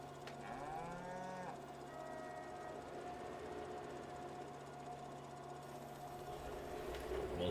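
Cattle mooing in Farming Simulator 22 on an off-grid dairy farm after feed is dumped, several drawn-out moos overlapping at moderate distance over a steady mechanical hum from farm machinery.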